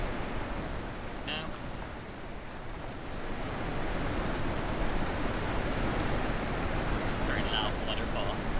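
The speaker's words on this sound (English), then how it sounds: "Very loud waterfall." A loud waterfall in a video game gives a broad, steady roar of rushing water that swells slightly louder partway through, with a few faint clicks on top.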